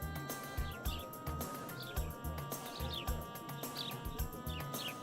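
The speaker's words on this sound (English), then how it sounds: "Is there a load of sparrows in the soundtrack?" Sparrows chirp in the Little Big Adventure 2 PC game, short bird calls repeating every second or so over a steady ambient bed with a pulsing low rhythm.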